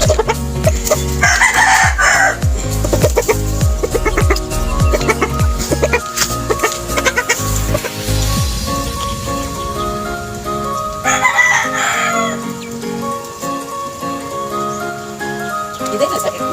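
On a small farm, chickens cluck and a rooster crows loudly and close by. Repeated calls come in bursts over continuous fowl chatter, and a voice is heard at times.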